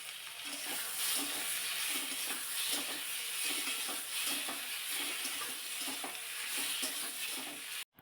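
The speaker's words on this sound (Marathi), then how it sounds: "कांदा मी परतून घेतलेला आहे आणि त्यानंतर मोठे तीन टोमॅटो मी इथे चिरून घातलेले आहेत" Chopped tomatoes frying with sautéed onion for a masala dosa filling, a continuous loud sizzle and hiss with faint rhythmic stirring scrapes, cutting off abruptly at the end.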